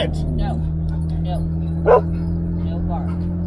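A standard poodle in Sun Valley, Idaho gives one sharp bark near the middle, over a steady low hum, with faint yips and people talking around it.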